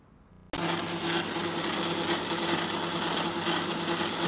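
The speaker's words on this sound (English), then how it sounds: "So the lathe is on automatic crossfeed here. You can see it's got powered crossfeed" A metal lathe on powered automatic crossfeed starts abruptly after half a second of quiet, then runs with a steady mechanical whir and a constant hum, loud and close, with no talking.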